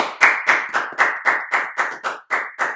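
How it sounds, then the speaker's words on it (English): A small group of hosts claps in a quick, regular rhythm of about ten sharp, close hand claps, each distinct and evenly spaced. "Round of applause, boys."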